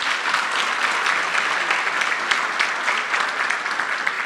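An audience at an economic indaba gives a round of applause, steady dense clapping from many hands that holds evenly throughout.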